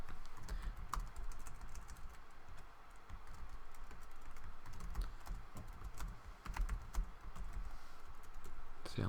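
Steady typing on a computer keyboard over about nine seconds, a dense run of quick key clicks with small bursts and pauses, close and fairly quiet, with no voice over it.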